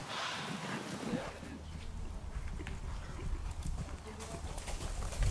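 A horse's hooves clip-clop rhythmically on a cross-country eventing course at Ratomka, carrying a rider through the obstacles. The steady hoofbeats sound at moderate distance and fairly quietly, with faint talk at times.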